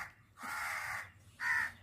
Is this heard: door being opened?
no